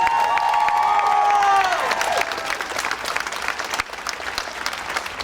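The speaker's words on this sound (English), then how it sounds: "Let's give a big round of applause for these incredible people" A crowd at a March For Our Lives rally in Mineola, New York, claps and cheers loudly for the event's organizers, a few whistles and shouts piercing the start before the applause settles into a steadier, slightly softer roar.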